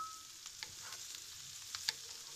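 Quiet sizzling of diced potatoes frying with mushrooms in a pan, with a few soft scraping stirs and light clicks, no voices.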